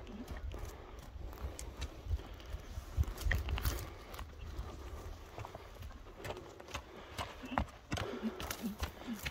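A large Russian-bred horse walks in a rural Alay setting, its hooves clip-clopping in a steady, fairly close rhythm over constant outdoor background noise.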